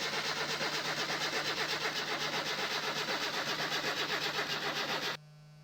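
Project car engine in the game My Summer Car cranking with choke pulled, a rapid rhythmic starter churn for about five seconds that fails to catch and then cuts off abruptly.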